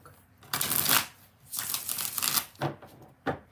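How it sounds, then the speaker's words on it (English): A deck of cards for a tarot-style reading is shuffled in several close, crisp riffling bursts separated by short pauses. "2 more shuffles."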